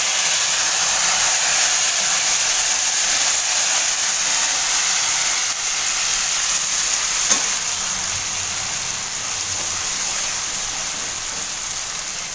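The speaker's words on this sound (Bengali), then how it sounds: "ওই মাছ ভাজা তেলেই জিরাটা দিয়ে দিলাম।" Cumin seeds sizzle in hot oil left over from frying fish, a loud, steady hiss that fills the whole stretch and eases only slightly toward the end, with no talking.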